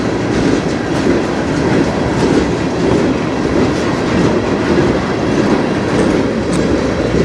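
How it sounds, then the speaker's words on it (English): A slow freight train rolls past in Sarnia, Ontario, a steady close rumble of wheels on rail with soft clickety-clack that holds an even level throughout. "This is what I've always called the snail train."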